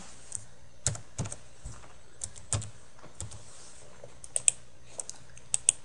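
Someone types a folder name on a computer keyboard, producing a sparse run of quiet, irregular key clicks with short pauses, the last few presses a little sharper, in a quiet room without speech.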